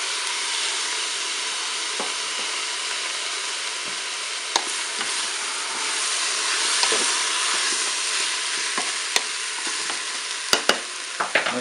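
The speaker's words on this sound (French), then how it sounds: "Je vais ajouter les spaghettis." Spaghetti stirred in a Cookeo electric multicooker, a constant bright hiss of frying with occasional sharp clicks and scrapes from a utensil against the pot, growing busier near the end.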